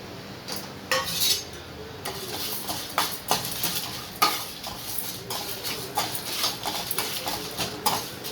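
A spoon scrapes and stirs dry chilli, cumin, pepper, cinnamon and cloves roasting in a pan for an egg gravy masala. The scrapes are close, irregular and repeated, over a faint sizzle, with no talking.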